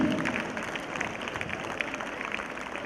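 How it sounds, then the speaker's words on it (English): A crowd claps and cheers at a school sports day for pre-KG to Class II children, with steady, dense applause heard from a moderate distance at low volume. "Cheer your team."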